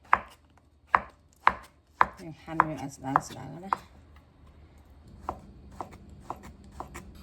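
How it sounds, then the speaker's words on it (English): A knife cuts matsutake pine mushrooms into thin slices on a board, giving a series of sharp, evenly spaced close taps, a brief flurry of quicker cuts, then softer, lighter chops. "Now I'm just gonna cut my mushroom. Just gonna cut this into small like this. Slice it thinly."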